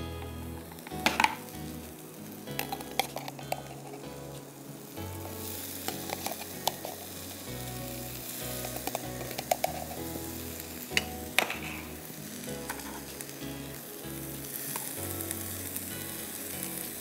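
Sweet corn and sliced mushrooms fry in a pan, a steady sizzle running throughout with occasional clinks and stirring scrapes, fairly close and without any talking.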